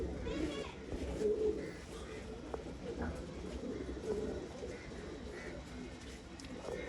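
Pigeons of an old line breed coo softly in low, repeated calls amid a busy outdoor bustle, with children's voices and people talking nearby.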